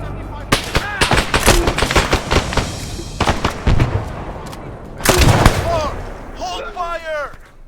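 Sharp gunshot bursts crack through a military tactical shooter game's town assault, dense volleys early then scattered single shots, with players talking over the firing.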